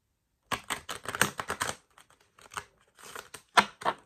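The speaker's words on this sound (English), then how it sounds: "One more shuffle." Tarot cards are shuffled by hand in quick bursts of riffling and flicking, with a short pause before a final sharp flurry, close up and alone.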